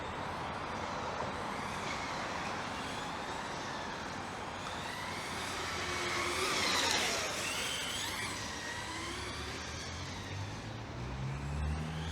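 Traxxas Rally VXL-3S radio-controlled rally car driving across an asphalt parking lot, a steady close motor whine that swells in the middle and stays loud throughout, with no talking.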